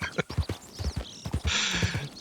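Horse hooves clip-clop in the video game Red Dead Redemption 2, a quick, close rhythmic series of hollow thuds that gives way to a brief burst of hiss and scuffle.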